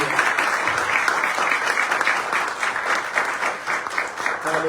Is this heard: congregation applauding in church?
yes